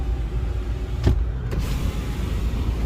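An Infiniti Q50's electric window motor whirs briefly as the glass closes, ending in a soft thud, over a steady low engine idle.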